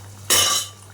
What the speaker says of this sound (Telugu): కూర అయితే అయిపోయింది, మూత పెడుతుంది.